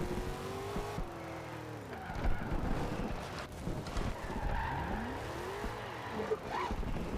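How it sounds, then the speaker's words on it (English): Tires squeal and slide as a car skids in the racing game Forza Horizon 2, under a steady engine roar with rising and falling pitch sweeps through the stretch. "Bit of a skid."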